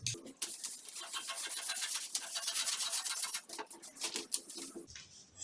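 Scissors cutting fabric for a drape skirt, a close crisp run of snipping and rustling strokes over a few seconds, with a brief pause near the end.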